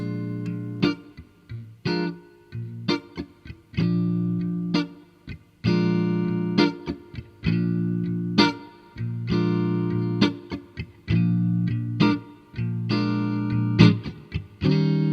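Distorted electric guitar plays a repeating 12-bar blues riff, steady chugging chords in a looping pattern, loud and alone with no voices.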